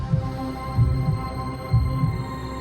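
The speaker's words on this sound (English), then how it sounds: "I could feel my heart pounding in my chest, a drumbeat echoing in the silence." A pounding heartbeat effect, deep low thumps in paired lub-dub beats repeating steadily over a dark, sustained hum, loud and close with no voices.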